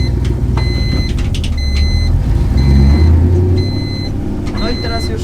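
A car rumbles along an open lot during drifting practice, its engine note dropping and swelling as the driver shifts into second gear and brakes, with voices talking over the steady low drone.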